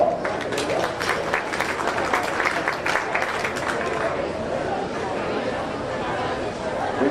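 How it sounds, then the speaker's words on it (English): Crowd applause in a county fair swine show arena, a few seconds of close, steady clapping mixed with chatter that gives way to crowd murmur and hubbub. "Let's give her a round of applause"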